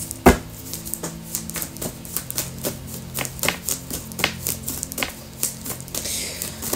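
Tarot cards shuffled by hand in a rapid run of crisp riffling flicks and clicks, close and fairly loud, with one sharper snap near the start and no talking.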